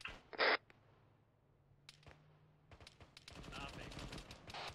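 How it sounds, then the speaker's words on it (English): Gunfire close by in the military shooter Arma 3, a sharp loud burst early on followed by scattered cracks and a denser spell of rapid shots toward the end, with faint background rumble. "Shots close."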